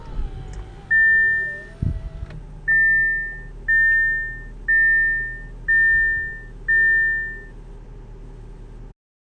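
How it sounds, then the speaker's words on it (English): A 2018 Audi A6 2.0T Quattro Premier starting up, a low engine hum under six evenly spaced electronic chimes as the center display motors out of the dash with a soft whirring, everything close and clear. "Most of the noise you hear is the center display coming out of the dash,"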